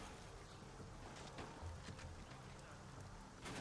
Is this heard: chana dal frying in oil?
no